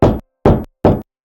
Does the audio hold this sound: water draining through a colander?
no